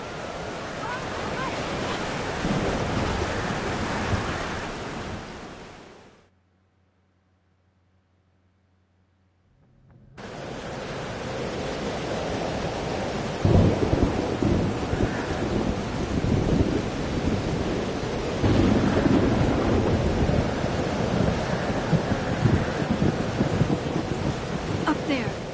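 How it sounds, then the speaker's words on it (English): Heavy storm in the video game Life is Strange: Double Exposure, with loud rain and roaring wind and rolling thunder, broken by a few seconds of silence before the downpour resumes with sharper thunder cracks. "The storm is here."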